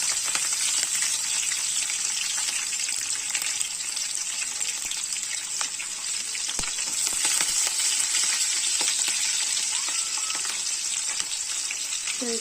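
Green chillies fry in hot oil with cumin and mustard seeds for a vankay (eggplant) curry, giving a steady, close sizzle and crackle throughout with no talking.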